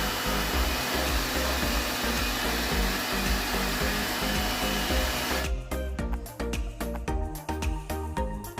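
Blower drying a cleaned air conditioner unit: a loud continuous rushing roar that cuts off partway through, leaving sporadic clatter and knocks close by.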